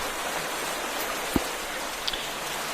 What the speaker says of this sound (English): Kinda wish the rain would stop.